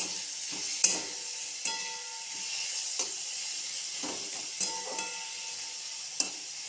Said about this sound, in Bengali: এই যে কুচিয়ে রাখা টমেটো, দিয়ে ভাজতে থাকবো।